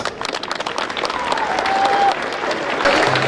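A crowd applauds the chief guest at a school science and art exhibition in Diphu, a dense, sustained round of clapping with a brief whistle-like tone partway through.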